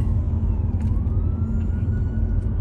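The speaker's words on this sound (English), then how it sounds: "There's even more ambulances going that way." Ambulance sirens wail along a city street in Ocala, Florida, their gliding tones sweeping faintly over a steady traffic rumble without any voices.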